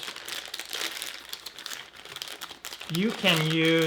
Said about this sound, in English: I'm gonna use a piping bag